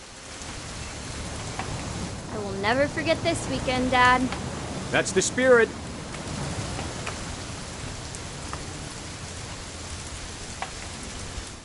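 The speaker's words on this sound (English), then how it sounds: "It's gonna rain the whole weekend" Rain falls steadily outdoors during a weekend hunting trip, an even hiss of drops that continues throughout while a couple of voices talk over it for a few seconds.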